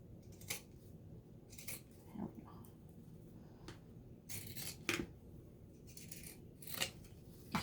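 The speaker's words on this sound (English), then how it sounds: "Especially with pinking shears, they're a little bit harder to..." Pinking shears snip through layers of fabric for a pillowcase, giving a series of soft, irregular crunchy cuts, close but faint.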